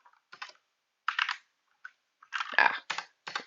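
Code being typed on a computer keyboard, with short close bursts of clicking keystrokes separated by brief pauses, quiet and without talk.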